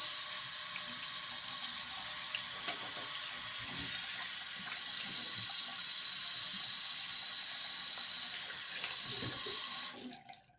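Bathroom tap running steadily into a sink as someone rinses off after a shave with a Gillette Silver Blue double-edge razor blade, a constant close splashing stream that cuts off at the end.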